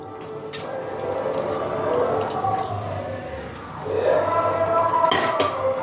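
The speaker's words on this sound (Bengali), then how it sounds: "এবার ভাজা চিকেনটা এর মধ্যে আমি ঢেলে দিলাম।" Fried chicken tipped into cooked-down masala in a pan for Chicken Lahori, giving a steady wet sizzle with scraping and a louder surge of frying toward the end, no voices.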